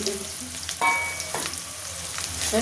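Onions frying in oil with bay leaf for a mutton and potato curry, a close, continuous sizzle with a few scraping stirs of the spatula.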